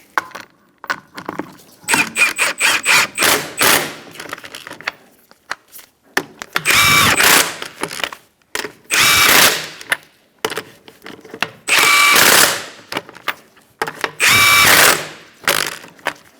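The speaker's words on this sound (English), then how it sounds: "I like to walk my wheel on using this bottom lug nut and then tightening in a star-like pattern." An impact wrench or power drill tightens wheel lug nuts on a 2004-2009 Mazda 3, loud close bursts of whirring and ratcheting repeated several times with short pauses between, plus lighter clicks and handling noises.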